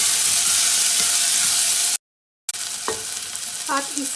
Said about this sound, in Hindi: अब इसके अंदर हम लोग प्याज ऐड कर देंगे, और इसको भी 1-8 मिनट के लिए फ्राई करेंगे।